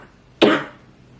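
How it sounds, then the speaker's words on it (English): A single sharp, close cough bursts out loudly and fades quickly into quiet. "Oh my God, this cough."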